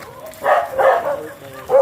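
An aggressive Belgian Malinois gives a few close, loud barks and yips in quick succession, with short gaps between them.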